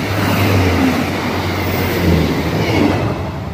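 A passenger train led by a class 156 diesel unit passing at Dronfield, a loud, close, continuous rumble with a low engine drone and wheel noise throughout.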